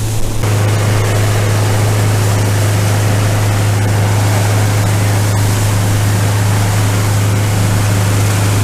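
Steady wind and wave wash on Lake Erie under a 15 knot northwest wind with 2 to 3 foot waves, a loud continuous broadband roar with a deep low hum throughout, no voices.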